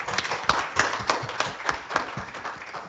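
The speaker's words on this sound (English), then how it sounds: "put your hands together and applaud this amazing panel" A conference audience claps for a panel in a hall, a dense burst of many hands applauding steadily at close range for a few seconds.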